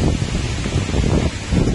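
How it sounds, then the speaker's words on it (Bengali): Wind and rain buffet a cattle farm outdoors where a Shahiwal cow stands, a loud continuous rushing roar with gusty swells and microphone buffeting, no voices. "অনেক বৃষ্টি এবং বাতাস"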